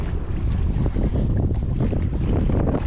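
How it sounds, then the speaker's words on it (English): Strong wind blows on Lake Norman, buffeting the microphone with a loud, constant roar over the rush of water around a boat. "That wind is picking up already"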